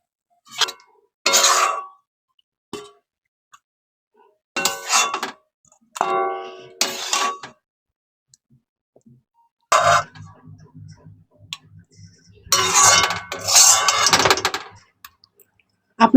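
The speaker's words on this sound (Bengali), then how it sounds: "এবার বেড়ে নেবো বাটিতে" Tomato chutney is served into a bowl, with metal dishes and a ladle clanking and clinking in separate sharp bursts and pauses of near silence between them.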